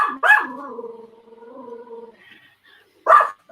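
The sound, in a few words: dog barking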